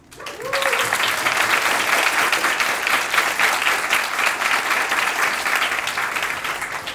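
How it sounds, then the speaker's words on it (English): A large audience at a university talk concert gives a sustained round of applause for two speakers; the clapping swells quickly, holds thick and even, then tapers slightly. "if we could get one more round of applause for our two speakers, Mr. Seo and Mr. Lee"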